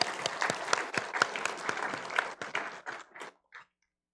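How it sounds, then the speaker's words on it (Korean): A church congregation at Sunday worship applauds after a choir's praise song, a dense burst of clapping that thins into scattered claps and stops abruptly. "우리 하나님께 영광의 박수 올려드리겠습니다"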